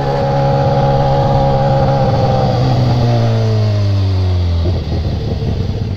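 Loud motorcycle engine held at high revs, then the pitch drops steadily as it winds down, ending in a rough lower idle rumble.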